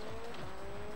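A Subaru rally car skidding in a racing video game, a brief squeal of tires under a sweeping engine note, quick and close.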